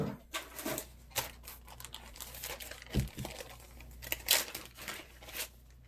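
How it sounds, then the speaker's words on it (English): Double-sided adhesive strips are cut and handled close by, giving quiet crinkles, snips and tearing sounds in an irregular scatter, with no talk. "I'm going to cut some adhesive strips for the display piece."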